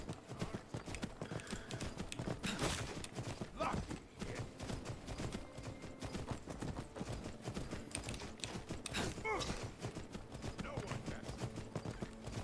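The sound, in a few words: horse hooves clip-clopping in a video game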